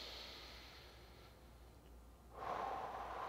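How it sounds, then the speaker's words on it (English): Slow, deep diaphragmatic breathing close to the mic, a soft airy inhale fading into a hush, then a louder, fuller exhale. "I'm gonna do a couple breaths."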